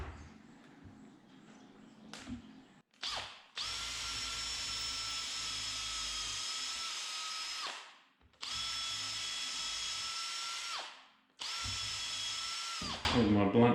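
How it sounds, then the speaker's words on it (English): A power drill whines at high speed in three long bursts with short pauses between, boring holes through old recycled timber up close and loud, using a blunt drill bit. "Okay, we'll just drill some holes in this."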